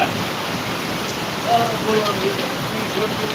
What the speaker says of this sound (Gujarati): જોઈ લે મિત્રો વરસાદ પડી રહ્યો છે